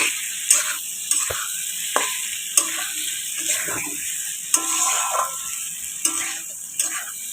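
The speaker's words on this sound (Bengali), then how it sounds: "আলুটা দিয়ে কিছুক্ষণ কষাবো। খুবই সুন্দরভাবে কষাতে হবে।" Potatoes are sautéed in a pan for a soybean muitha, a bright steady sizzle with regular sharp scrapes of a spatula against the pan every second or so, close and fairly loud.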